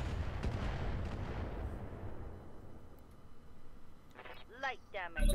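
Booming artillery rumble in the Roguetech mod of BattleTech, a loud dense blast fading over several seconds, with a short burst of voice-like chatter near the end.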